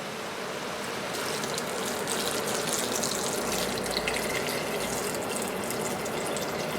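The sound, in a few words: pouring vegetable broth into Instant Pot for potato leek soup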